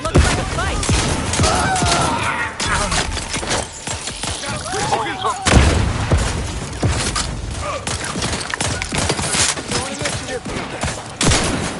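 Gunfire and a grenade blast in a firefight in The Outer Worlds 2, dense overlapping shots and thuds with a heavy boom near the middle, loud throughout with voices shouting over the combat.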